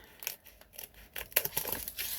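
Scissors snipping through material at a crafting table, a few quick close cuts with soft rustling and crinkling between them over about two seconds.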